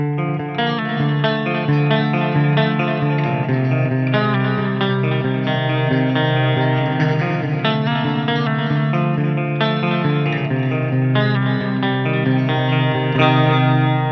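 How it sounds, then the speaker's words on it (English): Sustained guitar chords through an Eventide H9 MK2 pedal wash together under lush delay and reverb, a dense, continuous shimmering tone with echoes trailing into each other. "you can hear like the lushness in the delay and the reverb"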